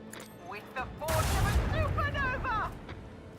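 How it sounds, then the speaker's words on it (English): Starship torpedoes launch in Warhammer 40K Rogue Trader, a loud rushing blast of game weapon fire that swells and holds under a layer of chirping game effects. "I shall fire even more torpedoes."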